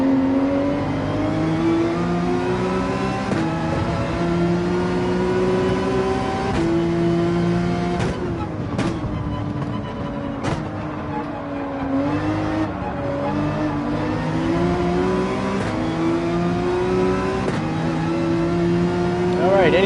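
Race car engines rev and roar at the Daytona track in Gran Turismo 7, with a Porsche 911 among the cars, loud sustained engine whine rising and falling with gear changes and brief tire noise.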